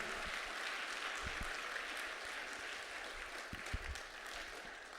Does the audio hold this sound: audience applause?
yes